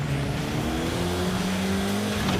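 A Nash Metropolitan's engine revs hard as the driver power shifts, a continuous loud, rough drone with pitch climbing steadily through the gear.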